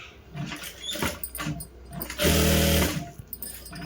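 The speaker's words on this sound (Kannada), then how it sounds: "ನಾನು ಇದನ್ನು ಫ್ರಂಟಿಗೆ ಬರೋ ರೀತಿ ಸ್ಲೀವ್ನ ಸ್ಟಿಚ್ ಮಾಡ್ತೀನಿ" A sewing machine stitches the sleeve of a lined blouse, first running in short, uneven pulses, then in a steady, louder hum for under a second, all close up.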